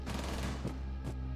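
Rapid automatic gunfire from the video game Rainbow Six Siege, a dense steady burst of shots at moderate loudness with brief sharper peaks, heard alone without voices.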